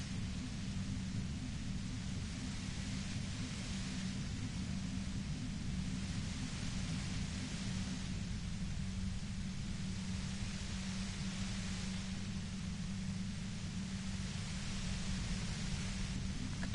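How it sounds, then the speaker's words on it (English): Steady static hiss from the white noise effect in Disco Elysium, a dense, loud, unbroken wash with a deep rumbling low end that swells and ebbs slowly for the whole stretch, with no voices. "You hear through the white noise."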